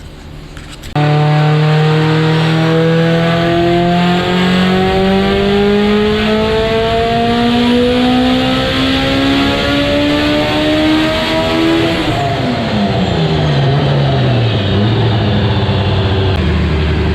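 A Honda CRX race car accelerates hard, its engine note climbing steadily through a long pull before dropping away and rising again, loud and close, with no talking.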